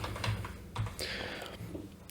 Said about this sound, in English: So I'll type in the text at the bottom.